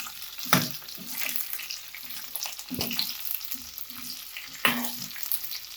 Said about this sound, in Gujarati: ત્યારબાદ આપણે આમાં કેપ્સિકમ એડ કરી દઈશું.